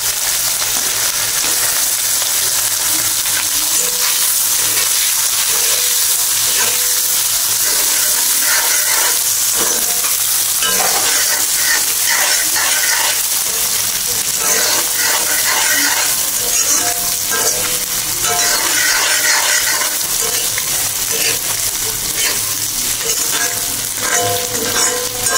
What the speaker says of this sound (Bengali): একটু ভেজে নিই